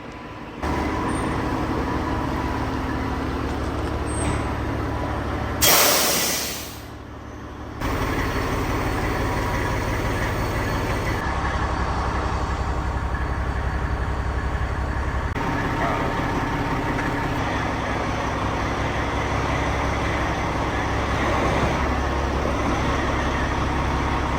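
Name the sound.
farm vehicle pulling in to hook up grain trailer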